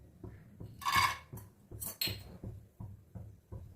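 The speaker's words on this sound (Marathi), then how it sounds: "तूप थोडंसं गरम झाल्यानंतर त्यामध्ये आपण हे काजू टाकून घेऊयात।" Cashews dropped into a pan of warm ghee, a few clinking rattles followed by a rhythmic series of soft knocks and scrapes from stirring, close and fairly quiet.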